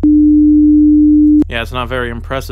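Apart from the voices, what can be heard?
300 Hz sine wave tone generated in audio software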